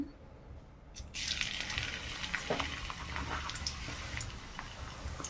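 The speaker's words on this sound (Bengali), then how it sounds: "তেল দিয়ে দিলাম তেলে দিয়ে দেবো থেতো করে রাখা রসুন" Crushed garlic dropped into hot oil while cooking gram (chickpea) greens, a steady close sizzle and crackle starting abruptly after about a second and holding for several seconds, with no talking.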